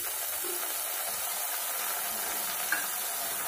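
Tomatoes frying in a pan with golden onions for dhaba-style palak paneer, a faint even hiss of sizzling with a light stir or two, steady and without talk.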